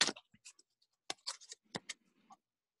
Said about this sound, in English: Let me shuffle them real quick.